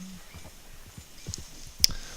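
Horse hooves in Red Dead Redemption 2, soft rhythmic clip-clop steps at a walking pace, fairly close but quiet, with a sharp click near the end.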